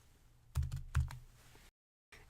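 A computer keyboard is typed on nearby in a short burst of several sharp keystrokes, then stops and falls silent.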